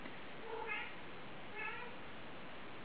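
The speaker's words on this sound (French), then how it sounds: "vous devez entendre Apollo qui miaule derrière la porte" A cat meows twice from behind a closed door, each cry faint and muffled, spaced about a second apart over a low steady hiss.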